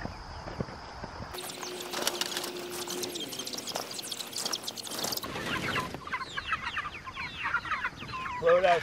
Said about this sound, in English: The meat birds are looking for their breakfast.